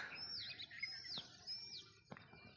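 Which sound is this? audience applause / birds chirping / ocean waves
birds chirping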